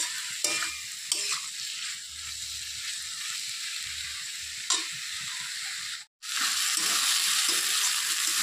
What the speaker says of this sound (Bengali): এখন আর এটাকে ঢাকবো না, একটু ভালো করে নেড়ে চেড়ে নেব ভাজা ভাজা করে।